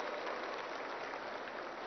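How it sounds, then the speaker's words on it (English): Audience applause at a green building property show in Hyderabad, a steady broadband wash of clapping lasting under two seconds, fairly even and moderately distant with no voices over it. "I think they deserve a big round of applause for this"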